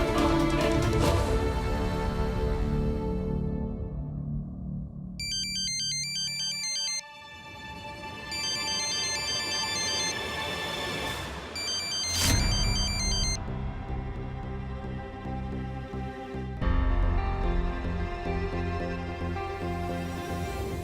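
A phone ringtone chimes in repeated melodic bursts, loud and close, over a dense bed of dramatic background music in a Hindi TV serial scene.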